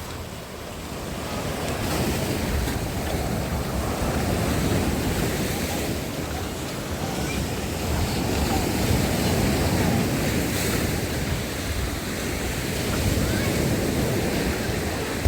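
Heavy storm surf crashes continuously onto a beach at 16th Station of Fontan, Odesa, on the Black Sea, with roaring waves and gusting wind buffeting the microphone throughout.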